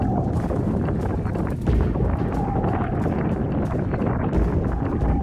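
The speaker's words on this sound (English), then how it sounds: "We arrived at the top of the Sahara in the middle of a sandstorm." Sandstorm wind at the top of the Sahara desert, a loud, steady roaring buffet against the microphone with low gusty rumbles throughout and no talking.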